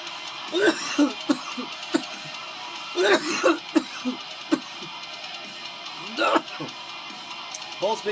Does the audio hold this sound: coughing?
yes